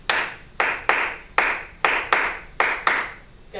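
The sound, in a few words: group clapping a rhythm in music class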